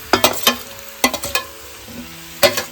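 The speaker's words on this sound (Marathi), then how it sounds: "इकडे सर्व चिकन आपण मॅरिनेट केला होता तो सर्व घालून घेतो त्याच्यामध्ये." Marinated village chicken tipped into hot tempering over a wood-fired stove, with a sizzle under sharp clattering spoon scrapes and stirring knocks arriving in quick clusters.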